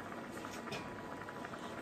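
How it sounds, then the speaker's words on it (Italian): A pot of cuttlefish with peas, taggiasca olives and guanciale coming back to the boil, a continuous close bubbling and gentle simmering patter with no talk. "Aspetto che riprenda il bollore,"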